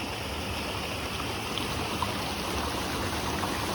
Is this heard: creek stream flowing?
yes